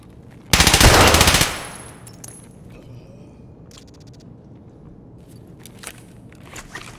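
A single loud, rapid burst from an MCX .300 Blackout rifle in a video game lasts about a second, then fades into quiet ambience with a few faint clicks and ticks.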